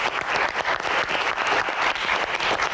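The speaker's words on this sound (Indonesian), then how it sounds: "teman-teman mahasiswa dari Jakarta, tepuk tangan" Loud, sustained applause from a studio audience of students at a televised Q&A show, dense clapping that swells and dips slightly throughout.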